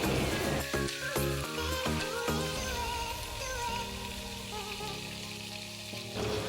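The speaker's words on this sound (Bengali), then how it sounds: "এবারে আমি পেঁয়াজ, টমেটো, ক্যাপসিকাম সব একসাথে একটুখানি ভেজে নেব।" Onion, tomato and capsicum fry together in hot white oil in a kadai for chilli paneer, giving a steady crackling sizzle that carries on throughout under background music.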